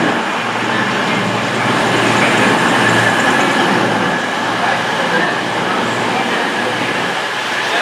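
A Class 221 cross-country diesel train rolls into a station in Devon, a steady, loud rumble of engine and wheels on rail that stays close throughout, with a faint voice underneath.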